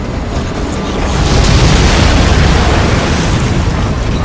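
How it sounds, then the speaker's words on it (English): A missile launch and explosion in the video game Crysis 2, heard as a loud, sustained roaring blast that swells and holds, close and dominant with no talking. "Target locked. Missile away."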